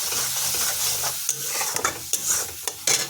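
Mustard paste with salt stirred and sautéed in a pan, a steady sizzling hiss with scraping stir strokes and a few sharper clicks of the spatula, close and alone.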